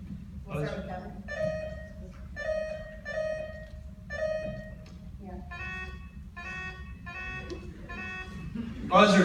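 Quiz buzzers at a trivia tournament are tested in turn, a series of short electronic tones of varying pitch, each about half a second, sounding one after another with brief gaps over low room noise.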